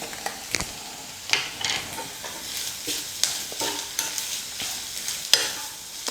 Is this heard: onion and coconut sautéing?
yes